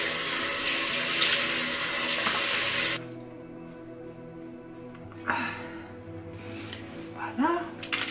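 Running tap water pours into a sink while face cleanser is rinsed off, a steady broadband wash for about three seconds, then quieter splashing and dripping with brief bursts of handling and speech nearby.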